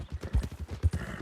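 A horse's hooves clip-clop at a steady walking rhythm in the video game Red Dead Redemption 2, close and moderately loud, with a faint background bed and no talking.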